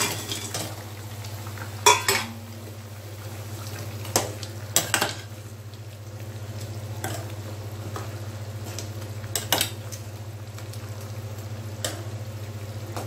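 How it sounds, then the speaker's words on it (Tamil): Fried pakoda pieces going into a simmering coconut curry, followed by a metal spoon stirring and clinking against the pot. The clatter comes in scattered bursts over a steady low hum, with no talking. "இப்போ வந்து நம்ம பொரிச்சு வச்சுக்கிற பக்கோடாலாம் இதில் போட்டலாம்."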